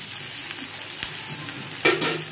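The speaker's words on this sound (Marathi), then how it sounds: "कांदा, लसूण, हिरवी मिरची, जिरा चांगलं तेलामध्ये छान असं परतून घ्यायचं" Onion, garlic, green chili and cumin sauté in hot oil, giving a close, continuous sizzling hiss broken by sharp clicks of a spatula against the pan, with no talking.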